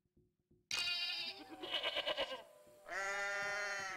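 Goats bleat in the Goat Simulator video game: a few faint clicks, then a loud, wavering, nasal bleat, a shakier second call, and a long, steady bleat at the end, all close and clear with no talking.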